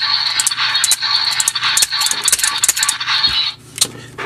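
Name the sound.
ToQger Henshin Brace toy sounds when turned on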